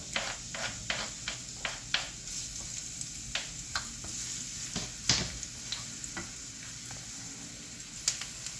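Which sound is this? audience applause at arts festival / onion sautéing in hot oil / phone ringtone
onion sautéing in hot oil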